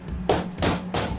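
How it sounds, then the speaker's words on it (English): A butterflied chicken breast is flattened with the back of a pan, giving three heavy, close thuds in quick succession with no talking. "all we do is we just give it a quick bang with the back of a pan"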